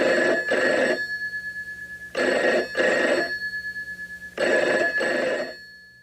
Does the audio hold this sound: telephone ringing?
yes